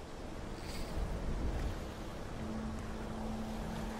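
Water splashing at a fishing spot in Skyrim, a soft continuous wash of surf and wind with a brief louder swell of splashing and a faint steady hum underneath, no talking.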